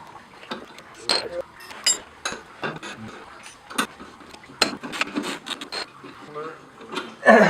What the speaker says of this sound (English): we're going to undo the sway bar end link now, and that should drop the control arm